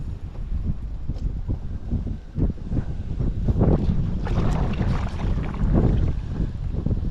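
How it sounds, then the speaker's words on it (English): Strong gusty wind roars across a lake, heard from a boat, buffeting the microphone in a constant rough rush with surging blasts and faint lapping water beneath. "It's awful windy out there."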